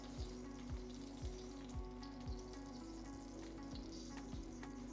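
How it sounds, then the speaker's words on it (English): Sausages fry in oil in a pan, giving a steady, soft sizzle that carries on without a break, with a few faint low thumps recurring at a slow, regular pace underneath. "just for the sausage juices to come impart into the oil, but also so that we begin to have a bit of color on the sausages as well"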